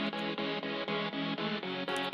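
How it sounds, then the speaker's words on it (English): Chopped synth chords from Vital, a run of about eight short, dense chord stabs in a steady rhythm with tiny gaps between them, full and loud. "And of course, we have our chop chords."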